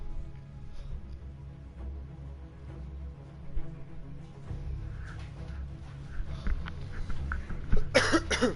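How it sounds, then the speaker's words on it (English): A person with a head cold coughs close to the microphone, with a few scattered coughs and a loud burst near the end, over a low steady hum during a Battlefield 1 match. "Sorry if you hear me coughing a lot."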